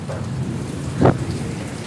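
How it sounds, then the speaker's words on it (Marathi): Heavy rain pours steadily in a village during an evening downpour, a dense close wash of noise with one brief low rumble of thunder near the middle. "खूप मोठ्याने पाऊस पडतोय"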